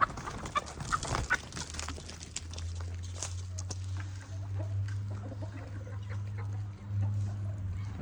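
Hens and ducks are let out on a farm on a winter morning: clucking and calls rise near and far, with shuffling steps, scattered rustles and a low steady hum underneath.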